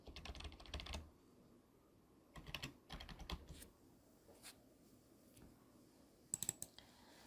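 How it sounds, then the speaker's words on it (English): Typing on a computer keyboard: bursts of quick clicking keystrokes in short runs with pauses between, close and fairly quiet, no talking. "I like to start by typing my word out."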